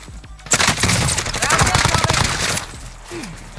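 Rapid automatic gunfire in Call of Duty Warzone, a loud, dense burst of continuous shots lasting about two seconds, followed by fainter game noise.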